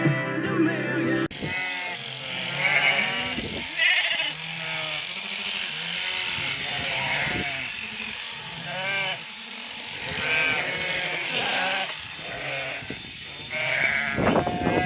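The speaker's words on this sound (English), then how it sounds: "These are some organic sheep." Many sheep bleat continuously at shearing time on a mountaintop, a dense chorus of overlapping near and distant calls over steady outdoor background noise, with no speech.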